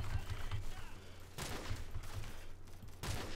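Gunfire in Call of Duty 4, several separate bursts of rapid shots over a steady background of game noise, fairly loud and close.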